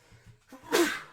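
One close, sharp sneeze after a quick catching breath, short and loud against a quiet background.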